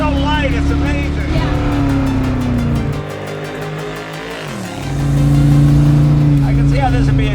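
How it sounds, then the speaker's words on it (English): The engine of a 1963 Rambler race car pulls hard close up, its pitch climbing, dropping at a gear change with a dip in loudness, then rising strongly again. "This is the best 63 Rambler I've ever driven."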